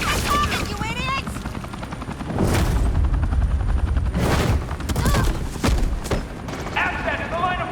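Police gunfire in the video game Batman: The Enemy Within, several sharp shot bursts amid a helicopter drone, with voices speaking between and over the shots.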